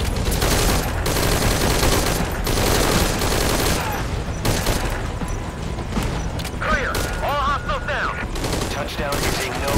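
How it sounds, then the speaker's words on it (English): Sustained gunfire in Metal Gear Solid V: Ground Zeroes, a loud, dense run of rapid shots and bursts that barely lets up, with a few clanks and impacts mixed in. "Give me a little bit of covering fire first"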